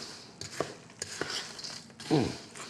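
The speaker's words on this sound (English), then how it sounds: "Stir in there good." Yakitori tare sauce being stirred in a cup: quiet scraping and a few light clinks of a utensil against the cup, ending in a short, slightly louder swirl.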